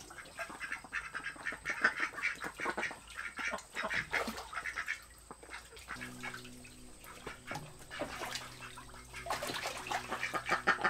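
Khaki Campbell ducks in a flock quack repeatedly at close range, with busy overlapping calls throughout and a steady tonal hum entering midway.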